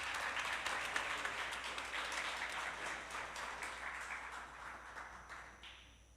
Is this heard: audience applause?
yes